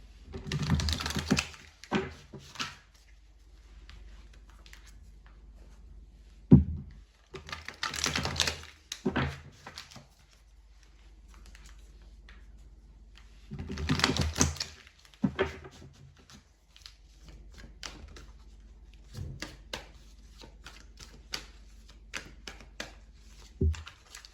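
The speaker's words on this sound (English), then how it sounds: "we're gonna draw some cards" Tarot cards are drawn and flipped during a reading, making bursts of quick dry tapping and rustling that come in clusters with quieter gaps, close and fairly faint, with no talking.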